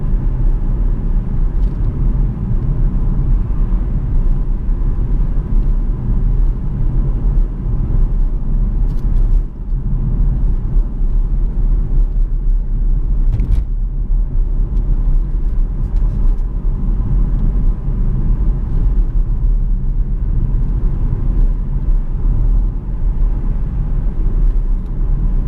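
Cabin noise inside a Jaguar XF 5.0 V8 S driving on the road: a steady, loud low rumble of engine, tyres and road noise that holds unbroken throughout, with no talking.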